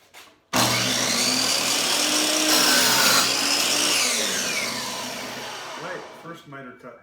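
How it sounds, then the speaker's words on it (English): A miter saw cuts a miter in a board: the motor spins up abruptly into a loud, close whine that drops in pitch as the blade bites, then winds down, with a voice at the end. "We're going to use my miter saw with miter cuts."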